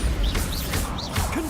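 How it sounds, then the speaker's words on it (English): A Bombarda spell blast in the video game Hogwarts Legacy: repeated broadband bursts with chirping, swooshing accents over a steady, busy game soundscape. "Bombarda."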